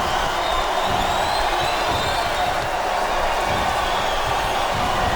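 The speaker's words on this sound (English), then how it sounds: "This capacity crowd is making their opinions." Capacity arena crowd noise from the WWE SmackDown vs Raw 2008 video game during a submission wrestling match, a steady loud roar of cheering and murmur that holds throughout without letup.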